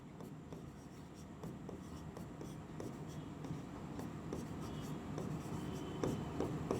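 Handwriting during a maths lesson on properties of inequalities, a steady scratchy stroking of writing that runs throughout at a moderate, fairly close level with small pauses between strokes.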